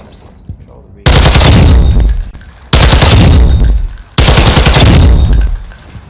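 Gun firing in Warzone 2, three long loud bursts of automatic fire separated by short pauses, close and dominant over quiet background.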